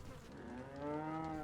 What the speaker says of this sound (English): Oh, look, it's a cow.